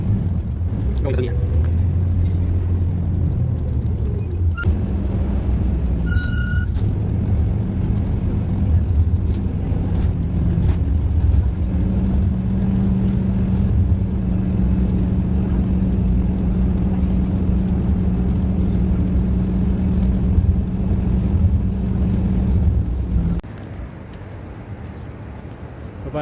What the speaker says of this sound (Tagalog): Sakay na tayo ng bus.